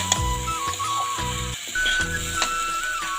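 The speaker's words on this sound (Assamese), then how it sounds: "এতিয়া ভালদৰে এইখিনি লৰাই লৈ আৰু অকণমান ভাজিম।" Drumstick pieces and potatoes with turmeric fry in a pan and are stirred, a steady sizzle broken by repeated scraping strokes of the spoon, close and fairly loud.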